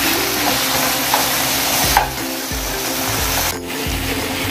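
Ampalaya con carne with soy sauce sizzles and crackles steadily in a hot pan, loud and close, while a utensil stirs and scrapes through it with occasional bumps.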